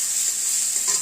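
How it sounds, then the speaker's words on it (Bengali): Garlic and chilli tempering frying in oil in a pan for a bottle gourd raita, a steady bright sizzle throughout with light stirring, close and even. "রসুন লঙ্কা ফোড়ন দিলাম।"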